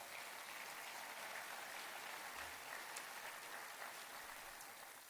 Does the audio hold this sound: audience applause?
yes